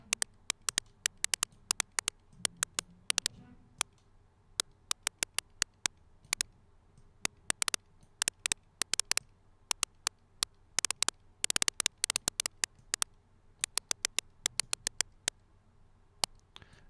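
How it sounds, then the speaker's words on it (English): Sharp, glitchy clicks and ticks of high-pass filtered white noise through a VCA in VCV Rack burst irregularly in a scattered rhythm, bright and crisp over near silence. "white noise coming into the VCA and a filter with a high pass"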